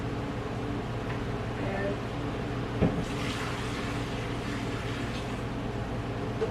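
Water runs steadily from a kitchen tap into a cooking pot, a continuous hissing splash with one brief clunk partway through, heard close by in a home kitchen.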